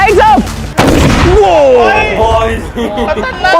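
A large Diwali firework goes off with a sharp loud bang, followed by crackling and whistling bursts, while excited voices shout and talk over it.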